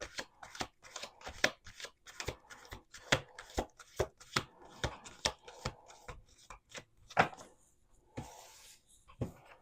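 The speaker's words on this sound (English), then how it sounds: "Let's do one more shuffle." A deck of cards being shuffled by hand, a rapid series of crisp riffling bursts and taps repeating close up in a quiet room, with no talking.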